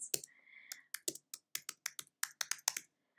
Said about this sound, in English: why is it that when people are watching that I can't type?